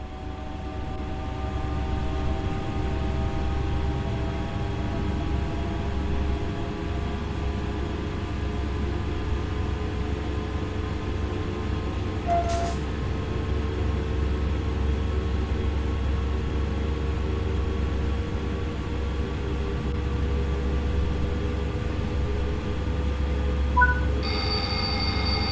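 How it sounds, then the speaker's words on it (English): An electric train in Train Sim World 5 on the Zwolle to Groningen line hums steadily with a low motor drone and rising tonal whine as it gathers speed, even and unbroken with no voices. "Accelerate the train now and exceed the speed limit."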